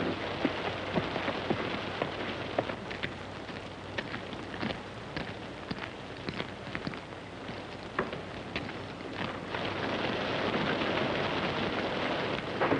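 A heavy rainstorm pours down steadily, with dense patter on surfaces and scattered sharp drops, while low rumbles of thunder roll underneath; no one speaks.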